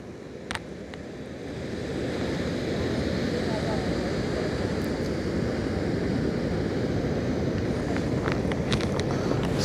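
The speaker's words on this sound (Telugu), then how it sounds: "అయినా అలల శబ్దాలు, అలల గాలి" Ocean surf rolls onto the shore at Visakhapatnam's RK Beach, a continuous loud wash of breaking waves with gusty wind buffeting the microphone throughout.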